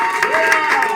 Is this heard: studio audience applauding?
yes